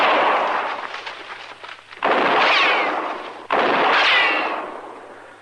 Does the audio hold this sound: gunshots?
yes